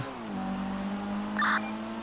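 A police car drives close by in the video game Yakuza, its engine holding a steady hum with a brief brighter tire squeal partway through, and no one talks.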